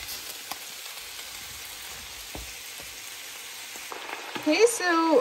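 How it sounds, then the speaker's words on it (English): Chanterelles fry with onions and garlic in rapeseed oil, making a soft, even sizzle with scattered pops and crackles that grows louder near the end as the pan is stirred or scraped. "we're going to fry some chanterelles in some vegetable oil"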